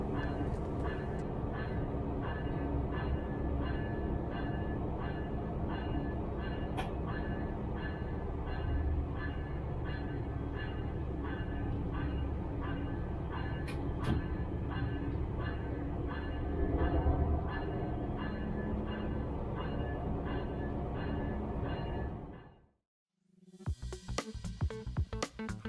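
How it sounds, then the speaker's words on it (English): Brightline train passing through an automated wash at the Orlando vehicle maintenance facility, a steady hum and rumble with rhythmic mechanical ticking for a long stretch, then a sudden near-silent gap before noisy clattering resumes. "the cycle to wash the full train takes about 15 minutes to complete."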